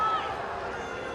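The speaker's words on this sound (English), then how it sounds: "Crowd don't like it." Crowd at a women's hockey match between Argentina and Great Britain, a brief broad murmur of disapproval rising from the stands under a commentator's voice.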